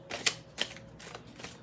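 A deck of tarot cards is shuffled close by in a few quick, crisp riffling bursts of soft papery clicks, quiet and with no talking.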